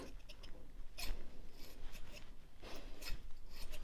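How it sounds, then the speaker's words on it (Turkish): Very old scissors being handled close up, with scraping, rasping metal sounds and a few sharp clicks, continuous and fairly quiet. "Bir tane çok eski bir makas."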